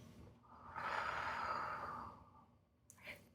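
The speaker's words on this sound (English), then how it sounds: "take a slow, deep breath in through your nose. Pause before you gently exhale through your mouth" A slow, deep breath drawn in through the nose, followed by a short pause and a soft exhale through the mouth, quiet and close.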